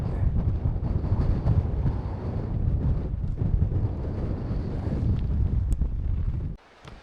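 Strong wind buffets the microphone at a mountain tarn during a stormy wild camp, a loud continuous low roar with gusts that drops away abruptly near the end.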